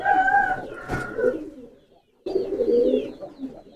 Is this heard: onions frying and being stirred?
no